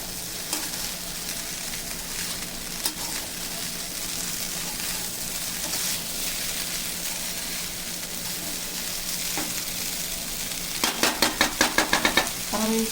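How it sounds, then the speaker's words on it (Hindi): Fried rice stir-fried in a pan over high heat, a steady loud sizzle and frying hiss running throughout, with a quick burst of rapid clattering spatula strokes near the end. "और अब गैस को तेज करके बस 1 मिनट के लिए ही इसे भूनना है।"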